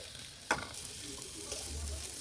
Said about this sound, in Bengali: এরপর কড়ার মধ্যে তেল দিয়ে ডিমটা আমি হলুদ মাখিয়ে ভেজে নেব।